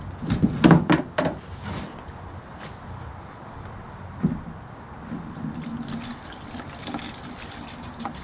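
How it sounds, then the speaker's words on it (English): Watery slurry being mixed with tap water in a 5-gallon bucket for splitting a huge boulder, a continuous sloshing, swirling churn with a few knocks against the bucket early on. "I'm gonna go ahead and mix this up in this 5-gallon bucket"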